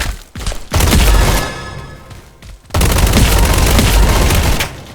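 Dense bursts of rapid gunfire and booms from a Roblox combat arena game, loud and close, with a couple of brief pauses between volleys and no talking.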